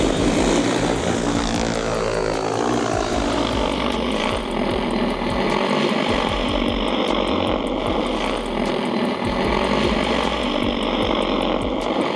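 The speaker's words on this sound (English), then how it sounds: "Now, we can start the mission and let the drone take off and see how it performs its task." Large agricultural spraying drone lifting off and flying a mission, a loud, continuous rotor whine and buzz that stays close and steady throughout, with a rising, shifting pitch early on.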